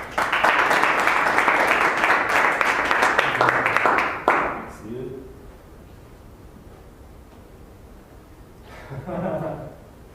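Applause from the audience at a Toastmasters public speaking meeting in Cluj, a loud sustained burst of clapping that stops abruptly partway through, followed by quiet room tone and a brief voice.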